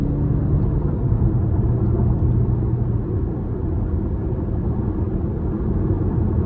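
A 2024 Cadillac XT4 Sport with a 2.0-litre turbo engine and AWD accelerates in sport mode, heard from inside as a loud, steady low engine and road rumble that holds constant throughout, with no talking.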